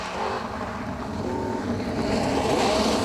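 A rally car passes along a stage as a steady, broad engine and road roar that swells slightly toward the end, heard from a distance with wind noise and no voices.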